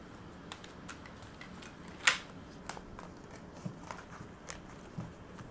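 Tarot cards shuffled by hand, a series of faint, scattered papery flicks and taps over a quiet room, with one sharper snap partway through.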